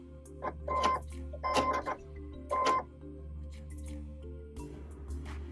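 A sewing machine yanks and cuts bobbin thread: three quick bursts of mechanical whirring and clacking close by, then a pause and a softer clunk near the end.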